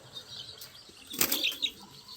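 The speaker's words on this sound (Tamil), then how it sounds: "டேப் அடித்து எப்படி நல்லா பறக்குது புறா" Pigeons flap their wings in flight outdoors at night, a soft fluttering burst swelling in the middle of a faint background, brief and fairly near, with no talking.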